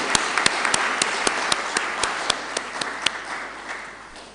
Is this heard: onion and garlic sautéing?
no